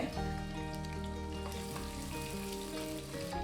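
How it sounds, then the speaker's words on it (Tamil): Steady sizzling and frying of two sliced large onions sautéing in a pan with occasional soft stirring, fairly quiet and continuous with no talk. "மீடியம் சைஸில் ரெண்டு பெரிய வெங்காயம் நீளவாக்கில் நறுக்கியிருக்கேன் இதை சேர்த்து வதக்கி விட்டுக்கலாங்க"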